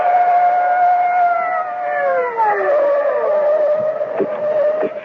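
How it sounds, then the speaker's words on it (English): Police car sirens in a radio drama wail loudly and close, two overlapping tones sliding downward as patrol cars race in, ending with a couple of sharp knocks. "the blare of police sirens as two patrol cars come hurtling out of the night"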